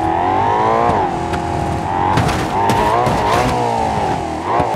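Audi car driving in the BeamNG.Drive simulator against a staircase: a loud, steady engine drone with revving pitch swings and rattling thumps and clatter partway through, no talk.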